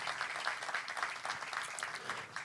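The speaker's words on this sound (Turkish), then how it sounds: "Ben kendilerine bir alkış daha rica ediyorum" Audience at a journalists' association award ceremony in Antalya applauding board members, a steady wash of moderate clapping from many hands, somewhat distant and even throughout.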